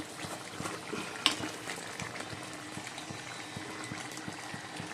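Curry simmering in a pan with garam masala and ghee added, a soft continuous bubbling with small regular pops and one sharp clink, faint and close, no talk.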